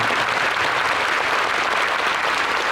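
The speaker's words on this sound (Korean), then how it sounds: "큰 박수 부탁드리겠습니다" A concert hall audience applauds at a Phantom Singer All-Star gala concert, a loud, dense and continuous wash of clapping that holds steady throughout with no speech over it.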